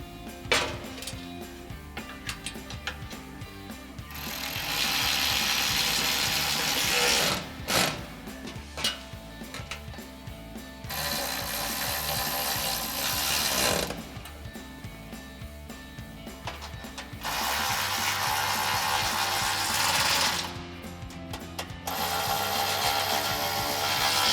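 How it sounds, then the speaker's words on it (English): Ratchet with a 10mm socket tightening exhaust bolts on a Jeep Gladiator JT during a Borla exhaust install, several long stretches of steady close clicking separated by brief pauses, no talking. "Then we can take our 10mm socket and tighten down all 4."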